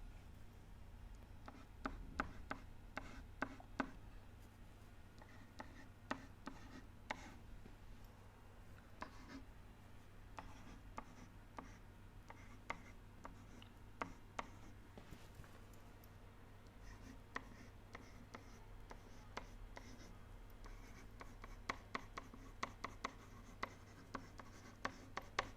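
Pen writing out a maths equation by hand on paper, a quiet, close stream of scratchy strokes and taps continuing steadily throughout, faint and without talking.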